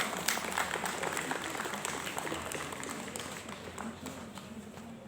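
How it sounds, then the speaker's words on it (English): Applause from an audience for a prize winner at an Independence Day ceremony, steady scattered clapping that continues evenly throughout at a moderate distance, with faint voices mixed in. "Appreciate him with thunderous applause."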